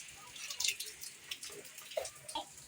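Rain falls with soft, scattered drips of water landing close by at a quiet level, and a voice speaks faintly in the background.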